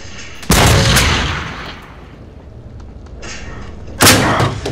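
Two loud, heavy gunshots in the Until Dawn video game, one near the start and one near the end, each with a booming decay and a quieter stretch between them.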